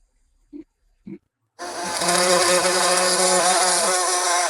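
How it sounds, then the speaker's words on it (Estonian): A small robotic bee buzzes steadily as it flies around a flower, its dense, loud, even drone running continuously close by after two short soft knocks. "mesilane hakkab lendama siin siis ümber selle lille ja kui ta jõuab lille kohale, siis ta nopib sealt nektarit ja sumiseb"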